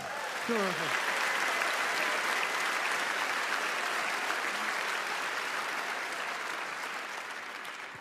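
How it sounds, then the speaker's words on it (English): Audience applause fills a convention panel room at PAX West 2016 during a Gearbox Software panel: dense, sustained clapping that holds steady for several seconds, then gradually eases off, with a brief voice near the start. "Give him a round of applause."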